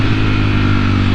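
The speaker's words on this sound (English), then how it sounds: "You get the auto rev on the downshift," Ducati V4 motorcycle engine on the move, a steady, loud mid-range drone throughout the short stretch as the bike auto-blips during a downshift.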